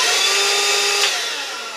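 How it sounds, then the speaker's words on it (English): A cordless vacuum cleaner runs steadily with a bright, whining motor hum that holds for under two seconds before easing down slightly, close and alone with no talk. "Vacuum."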